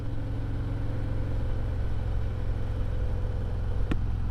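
A motorbike ride with a steady low engine drone and constant rushing wind buffeting close to the mic, with no speech.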